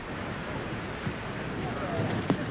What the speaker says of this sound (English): I couldn't believe that wind blowing that hard.